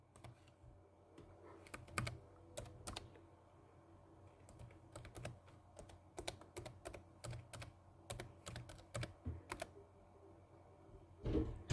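Typing on a Dell Inspiron laptop keyboard running Windows XP: quiet, irregular clusters of close key clicks with short pauses between bursts and a few heavier taps near the end.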